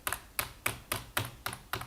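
Arrow keys pressed on a computer keyboard while playing a Python-made 2048 game, about seven distinct clicky taps at a quick, slightly uneven pace, close and fairly quiet with no talking.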